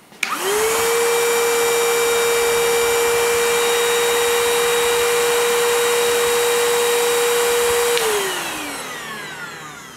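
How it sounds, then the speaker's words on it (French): A FERM cordless site vacuum cleaner starts up and sucks up a pile of dust, holding a loud, steady whine with a constant tonal hum before it shuts off and spins down. "je vais aspirer ce tas-là en regardant le niveau de décibels"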